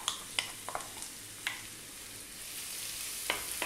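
Onion and carrot frying in a pan over high heat, a steady broadband sizzle with a few light clicks and taps of stirring, close and continuous with no talk.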